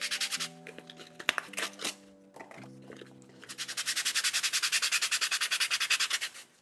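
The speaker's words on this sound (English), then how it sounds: "I can rough it up with a bit of sandpaper" Sandpaper roughs up the surface of an inflatable PVC kayak: a quick, close run of rhythmic rasping strokes that builds into steady back-and-forth scrubbing, with some tonal sounds heard earlier.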